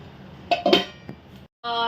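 A metal lid set down on a pot of hot modak dough makes a few close clanking knocks. A short high ringing of metal follows.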